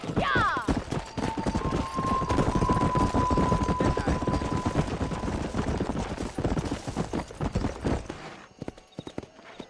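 Horse hooves pound rapidly while riding in the Red Dead Redemption western game, a near and loud gallop over ambient game sound, with a short whistling tone early on and the hoofbeats thinning out near the end.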